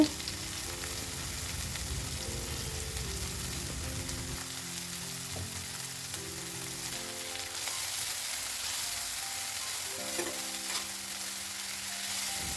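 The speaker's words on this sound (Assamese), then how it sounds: "এতিয়া মই দি দিলোঁ সৰু মানিমুনি কাটি থোৱাবোৰ ধুনীয়াকৈ ইয়াতে।" Chopped small pennywort (manimuni) frying in a pan, a steady, close sizzle with stirring scrapes running throughout and no talking.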